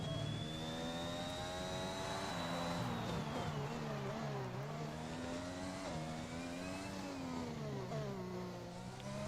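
F1 2021 video game cars accelerate on throttle down the straight at Great Britain, a steady, loud layered engine whine with pitch rising and dipping through gear changes, continuous throughout with no talking.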